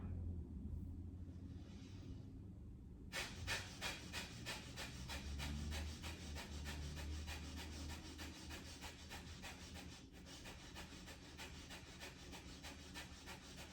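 Rapid rhythmic breath of fire, a yoga breathing exercise, with quick forceful nasal exhales pulsing steadily for several seconds at low volume.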